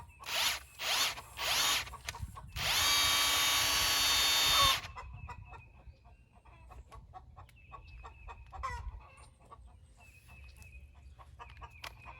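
Power drill twists wires together in a garden setting, a few short whirring bursts followed by one longer sustained high spin, then quiet handling clicks with roosters clucking in the background.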